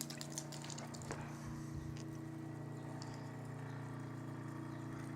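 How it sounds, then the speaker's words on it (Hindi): A solar-powered water pump runs and builds pressure as it pushes water through a pipe from a drum, a steady faint hum with light watery splashes and clicks. "ये पंप चल गया, प्रेशर बना रहा है"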